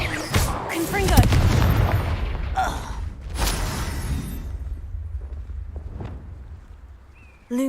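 A Confringo fire spell blast from Hogwarts Legacy: a loud, booming burst with heavy low rumble that swells over the first two seconds, then decays into a fainter, crackling tail with scattered smaller hits.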